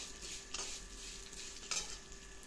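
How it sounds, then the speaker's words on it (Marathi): Sesame seeds roasting in a dry pan, a soft continuous sizzle with two quick scraping stirs of a spoon against the pan, quiet and close, no talking. "त्यानंतर तीळ टाकूया थोडीशी, ते पण चांगली परतून घेऊया."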